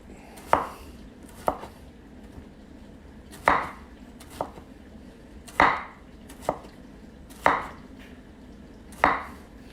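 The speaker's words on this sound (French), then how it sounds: "Donc là, même chose, on coupe relativement fin." A knife slices courgette thinly on a cutting board, making about eight crisp, separate chops spaced a second or so apart. The cuts are close and clear over a quiet background.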